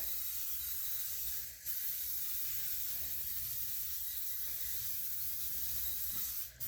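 A long continuous hiss of an aerosol cooking spray coating a pan, held steadily for several seconds with brief pauses near the start and end.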